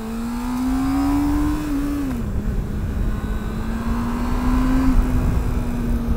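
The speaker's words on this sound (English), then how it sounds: "it's actually kind of weird to get used to how high this revs" A Honda Hornet CB600F motorcycle engine revs high and loud nearby, a sustained whining tone that dips briefly then climbs again, steady under wind noise with no talking.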